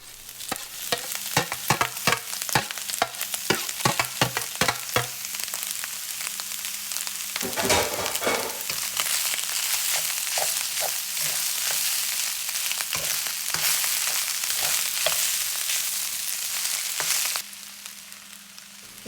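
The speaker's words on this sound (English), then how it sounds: "Now mix in the egg." Egg is stirred into Spam fried rice in a hot pan: quick clacking utensil strokes at first, then a steady loud sizzle with scattered scrapes, ending a little quieter, close and without speech.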